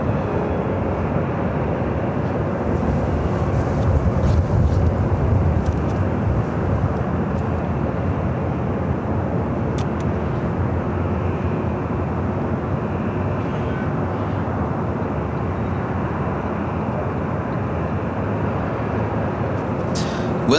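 An airliner, such as a Virgin Atlantic jet, takes off from the north side at LAX, its engine roar a steady, broad rumble filling the whole stretch at moderate distance, with faint voices underneath.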